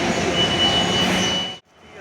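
A train at Santragachi station at dawn makes a loud, steady rumble that fills the scene, then cuts off abruptly before a quieter rumble returns.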